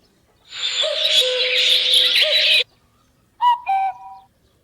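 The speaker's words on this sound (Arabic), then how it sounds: "دي رنة التليفون، انا عاملها على هيئة صوت عصافير وبلابل وحاجات زي كده" Phone ringtone built from sparrow and bulbul calls: a dense, loud warbling burst of chirps and whistles for about two seconds, a short pause, then two brief clear whistled notes, with no talking.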